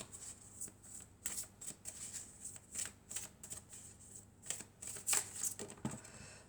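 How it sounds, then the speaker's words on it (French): Triade oracle cards being shuffled by hand in a quick run of crisp riffling bursts and soft slaps, close and fairly quiet, with no talking. "on va prendre quelques cartes de l'oracle de la Triade"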